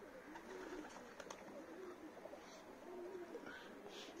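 Young racing pigeons at a new loft coo softly in low repeated rolling calls, faint and spread over a quiet outdoor background.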